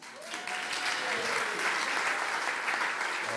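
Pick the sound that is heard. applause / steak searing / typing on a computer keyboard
applause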